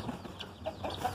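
A brooding hen that nests and lays up in a flamboyant tree gives soft, faint clucks, a few short separate calls over quiet farmyard background.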